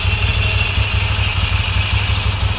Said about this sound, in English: let's fire up the fucking V7